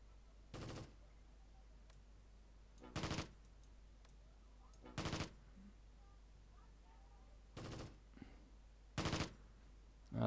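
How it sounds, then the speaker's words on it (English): Gunfire in the Close Combat wargame: five short rattling machine-gun bursts, spaced about two seconds apart, each sharp but moderately faint against near silence, with another burst starting at the very end. "Oh, those guys are also firing at me."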